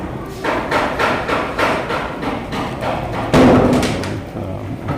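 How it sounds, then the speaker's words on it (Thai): A pile-driving crane hammers a concrete foundation pile about six to seven metres long, giving a steady, rapid series of heavy metallic blows at close range with no talk. "นี่คือตัวปั้นจันตอกเสาเข็มนะฮะ"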